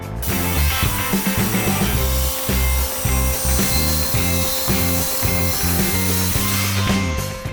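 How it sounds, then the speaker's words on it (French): Two wooden discs being cut out of a wooden board with a saw: a loud, continuous buzzing and rasping cut that runs almost unbroken for several seconds, close up, with no speech. "Donc je vais découper là-dedans."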